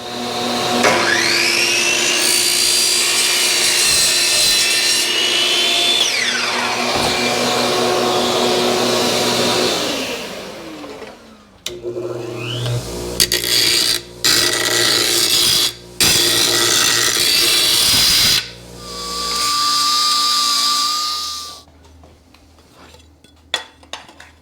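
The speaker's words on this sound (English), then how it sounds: "Give that a chop on the chop saw." A power saw whines up and cuts in long loud bursts, with intermittent pauses, clattering of material, and a final spin-down to quiet.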